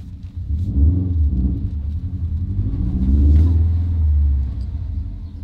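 A Subaru WRX STI pulls away on its first drive, its engine rumbling loud and close as it revs and accelerates, swelling and easing across the run with no talking over it.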